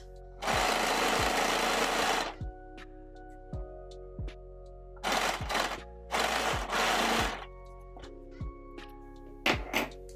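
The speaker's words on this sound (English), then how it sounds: "You're just going to sew a straight line to attach all of your pockets." A sewing machine stitches straight seams to attach pockets on a dress, in three or four loud bursts of rapid stitching separated by quiet pauses with soft clicks and thunks.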